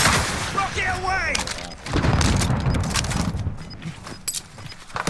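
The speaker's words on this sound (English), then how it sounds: "That was me throwing a rocket" A rocket launched in the shooter game Warzone, with a sharp burst followed by a rumbling boom and crackling debris, alongside chiming game effects and brief voices.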